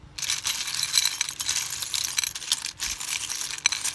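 Small metal charms rattle and clink as they are shuffled, with repeated bright jingling and scattered taps as pieces drop onto cards close by.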